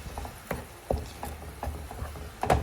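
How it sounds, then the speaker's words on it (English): Diced jalapeno sautéing for queso in a pan, a spoon scraping and clacking against the pan in irregular strokes about every half second over a faint sizzle, close and fairly quiet. "Saute that up. I just keep stirring it."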